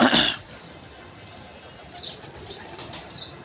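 A short burst of a white pigeon's wing flapping at the start, then quiet with a few faint high chirps and rustles later.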